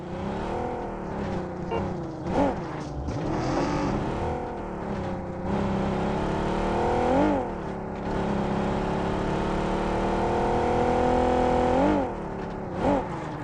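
A vehicle driven in the game BGMI, a loud, close engine drone rising and falling as it revs and shifts, with repeated sweeping pitch swoops under continuous motor noise.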